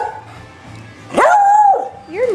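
A beagle lets out a single loud, drawn-out bark-howl close by, followed by a short yelp, after a quiet moment with faint background sound.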